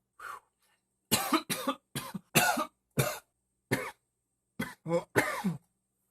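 A run of sharp, close coughs after smoking cherry shisha, falling into about eight distinct bursts with short gaps between them and a clustered fit toward the end, in an otherwise quiet room.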